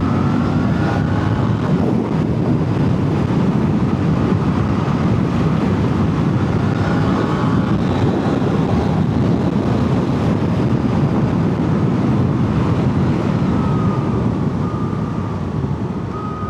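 A Suzuki GSX-8TT motorcycle, just past its running-in service, rides at higher revs with a loud, steady engine drone heavily buffeted by wind roar, continuous throughout.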